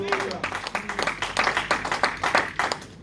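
A congregation claps for Jesus at an evangelistic church gathering. The applause is steady and rhythmic, with many hands beating together in quick regular pulses under a voice.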